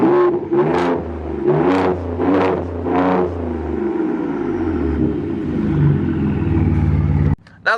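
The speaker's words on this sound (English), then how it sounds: "let me get a rev for you guys so you can hear it" A 2017 Ford Raptor pickup truck's engine is revved several times in quick succession, each rev rising and falling loudly up close, then settling into a steady idle rumble before cutting off.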